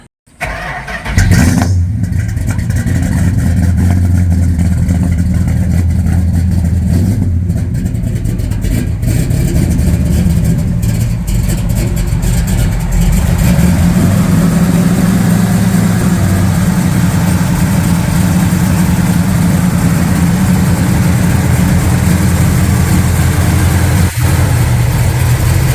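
Custom 426 Hemi V8 in a Dodge Charger R/T starts up and settles into a loud, close, lumpy idle with deep low rumble, with light revving throughout and no talking.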